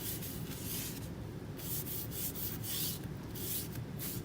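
Crinkled wipe soaked in a mixture rubbed back and forth across a wooden board, a steady close scrubbing and swishing with repeated strokes, no talking.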